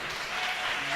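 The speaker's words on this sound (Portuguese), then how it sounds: "Aplauda o Senhor" A church congregation bursts into applause during a Portuguese sermon, a dense, steady wash of many hands clapping at moderate volume with no speech over it.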